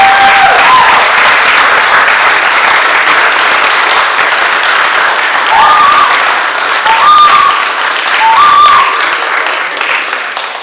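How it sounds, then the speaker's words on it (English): Sustained applause from an audience at a public hearing on wakeboats in Vermont, steady dense clapping that fills the room for about ten seconds before tapering slightly at the end, with no voices over it. "let's give him a big round of applause"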